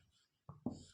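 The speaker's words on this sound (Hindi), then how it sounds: "मैं लिखता हूं मोहन पुस्तक" Pen strokes writing out a sentence during a grammar lesson: two short scratchy bursts close up after a brief quiet, with no speech.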